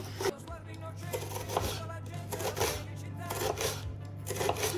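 A knife chops half an onion for pizza topping on a board with quick, repeated cuts, close but quiet, over a low steady hum.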